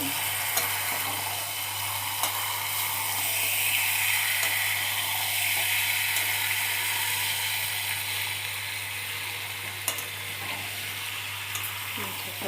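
Chicken meat for chicken kosha sizzles and fries steadily in a pan, with a constant crackling hiss and occasional scrape of stirring, close and continuous without talk.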